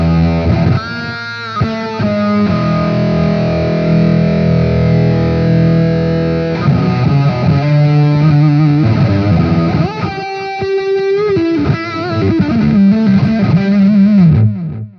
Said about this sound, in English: And it's much more of a fuzz tone.